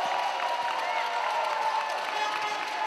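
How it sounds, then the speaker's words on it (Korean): A dense crowd of students and fans cheers loudly and steadily at a university basketball game in an indoor arena, a continuous roar of voices and shouts lasting a few seconds. "환호하는 생명대학교 학우들 그리고 팬들입니다"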